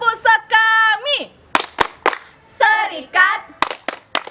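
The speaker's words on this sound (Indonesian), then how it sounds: "ayo mari kita tepuk sekami dulu" Children at a Catholic children's Sunday service do a group clap chant, sharp claps landing in rhythm between bursts of chanted voices, loud and close.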